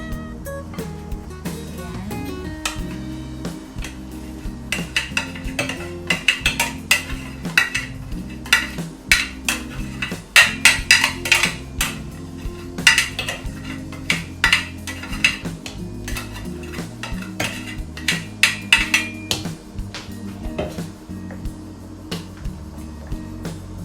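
Puto maya ingredients being mixed in a bowl, repeated clinking and scraping of a utensil against the bowl in an uneven rhythm, with music playing underneath.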